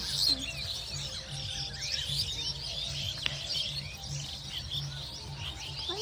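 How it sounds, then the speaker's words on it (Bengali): Small birds chirp and tweet outdoors in a rural village setting near sugarcane plants, a steady faint chorus of overlapping calls with a soft low background hum. "পাখিদের এই কিচিরমিচির আওয়াজটা"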